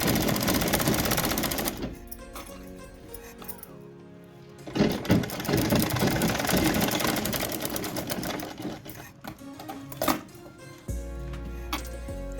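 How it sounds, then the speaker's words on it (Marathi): A sewing machine runs a straight line of stitching on a top, a loud, continuous rapid whirring chatter that briefly slows and pauses between runs. "या पद्धतीनं स्ट्रेट लाईन मारून घेतली तर आपल्याला इथला जो मुंडा आहे तो कमी होणार आहे"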